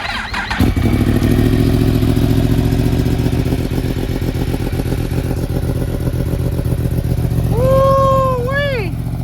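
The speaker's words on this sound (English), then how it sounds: "Actually, let me get on the other side to give it some justice so you can actually hear the cold start." A Yamaha R1 sport motorcycle engine cold-starts, cranking and catching, then settling into a loud, lumpy idle up close, with a voice briefly calling out near the end.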